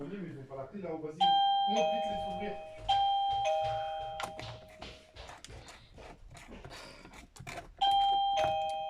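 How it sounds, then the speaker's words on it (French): Children ringing a doorbell indoors, sounding several loud two-tone chimes at irregular intervals that ring out and decay, with talk and household noise around them. "Donc mes enfants vont jouer avec la cloche,"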